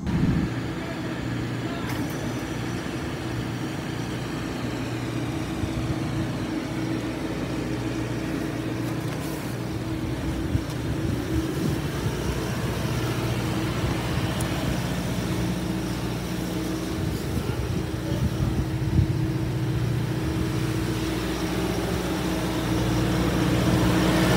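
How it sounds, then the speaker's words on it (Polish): Two identical tractors' heavy engines drone steadily and loudly in a tug of war for a long stretch, a low rumbling hum with slight shifts in pitch, close by. "jeżeli zrobimy prawdziwy test przyciągania liny i podczepimy te ciągniki do siebie?"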